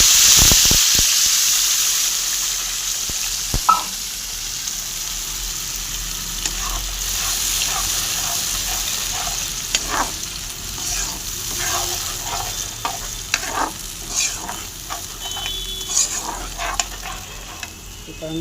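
A ginger, garlic and onion paste with tomato paste sizzles and spits in hot oil, loud at first then settling into steady frying with repeated scrapes and clinks of stirring.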